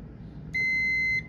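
During a continuity test on a solar combiner box, a multimeter sounds a single clear, high-pitched beep lasting roughly two-thirds of a second, preceded and followed by a low, quiet background.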